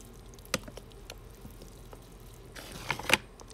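Water soaks into the free-draining soil of a potted dwarf jade (Portulacaria afra), heard as faint, scattered drips and soft splashes, with a brief trickle of pouring near the end.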